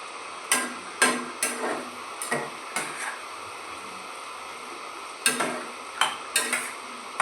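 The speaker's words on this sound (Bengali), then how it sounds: "ভালো করে ফুটবে এবার ঝোলটা" A spoon stirs and scrapes through soybean curry gravy with poppy-seed paste in a pan, giving a string of sharp, close knocks and scrapes over a low steady simmering hiss.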